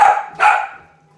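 A dog gives two quick, close barks in succession, the second slightly louder, then the sound trails off into quiet.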